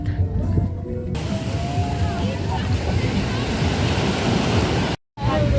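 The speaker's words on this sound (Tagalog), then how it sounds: "nandito na kami sa beach" Ocean waves wash onto a beach in a continuous, loud roar of surf mixed with wind buffeting, with voices faintly underneath and a brief dropout near the end.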